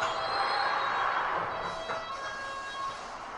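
London Underground Hammersmith and City Line train running between stations, a moderate hiss and rumble of the carriage with a brief squeal of wheels partway through, no voices.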